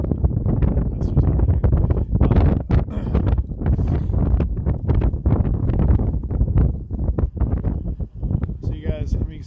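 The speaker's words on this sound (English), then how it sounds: "It's so incredibly cold out here and windy" Strong, cold wind buffets the microphone outdoors in Waukesha, Wisconsin, where street barriers are being blown around. The roar is loud and continuous, with rough gusts throughout, and a person talks over it.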